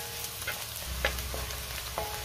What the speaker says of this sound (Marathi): त्यातच हिरवी मिरची घालते आणि फरसबी घालायची आहे आणि पुन्हा 1 मिनिटभर परतून घ्यायचंय।